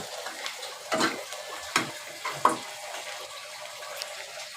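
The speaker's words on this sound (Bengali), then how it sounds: "যে তেলটাতে মাছের ডিমটা ভেজে নিয়েছি সেটাতে এখন মশলাটা কষিয়ে নিচ্ছি" Masala cooks in oil left over from frying fish roe in a pan, with a soft background sizzle broken by several sharp stirring scrapes and clinks close by.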